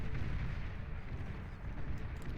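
Units in the Beyond All Reason strategy game, hound units among them, unleash a dense, continuous barrage of weapon fire, rumbling artillery-like booms and blasts blending into a steady low roar at moderate distance, with no voices.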